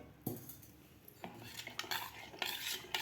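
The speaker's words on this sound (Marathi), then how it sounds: "आता आपल्याला यामध्ये थोडंसं पाणी घालून हे पीठ मिक्स करायचं आहे" A spoon stirs jowar flour and water in a pot, making several close, scraping clinks of metal against the pot in irregular strokes with quiet pauses between them.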